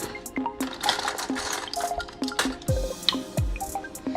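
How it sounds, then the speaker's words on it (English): A spoon stirs yeast into warm liquid for cinnamon roll dough, making small wet clinks and drips against the bowl in an irregular rhythm, close and fairly quiet. "Let's go ahead and activate this. Okay, and then we're going to give that a stir."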